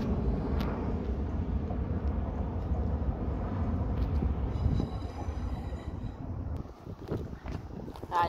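A train pulls into Eastleigh, rumbling steadily through, a loud low roar with rattling carriages, easing off near the end with some squeals and clanks.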